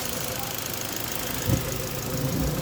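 A Ford EcoSport engine runs with a steady, dense mechanical clatter and heavy knocking, its water and oil mixed, close up with a brief deeper thump midway.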